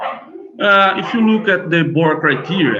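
Dogs barking and yipping in the background, repeated sharp calls heard beneath a man lecturing close to the microphone.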